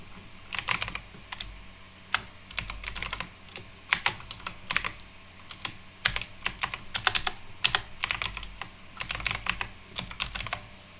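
Someone types a password on a computer keyboard while setting up a Firebase app user, with bursts of quick, close keystrokes separated by short pauses over about eleven seconds, with no voices.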